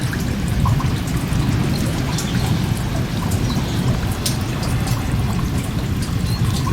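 Steady rain falls on a sailboat in a creek, a dense continuous patter and hiss with scattered louder drops striking nearby, even and unbroken throughout.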